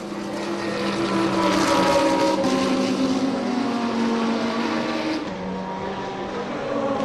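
Porsche and BMW race cars scream past on a circuit at a national motorsport festival, high engine notes rising and falling as they battle through corners, loud and close with no talk.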